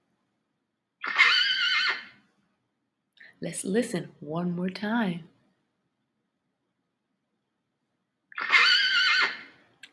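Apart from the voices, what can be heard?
horse neighing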